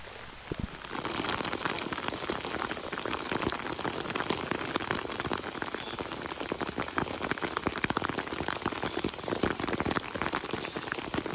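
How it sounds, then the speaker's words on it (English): Steady rain patters densely on a nearby surface, a constant crackling hiss of drops with no voices. "Rain's coming down again."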